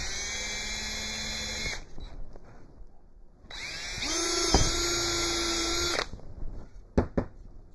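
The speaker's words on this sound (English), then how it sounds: "Now I'm going to drill my marked locations." A power drill whines at high speed boring holes into wood for Langstroth beehive bottom boards, two long bursts with a pause between and short blips at the end.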